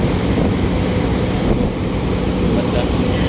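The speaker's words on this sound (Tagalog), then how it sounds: "Lakas ng alon" Heavy sea waves wash and surge around a passenger ship sailing between Cebu-area islands, heard as a loud continuous roar mixed with wind buffeting the microphone. Someone speaks briefly over it.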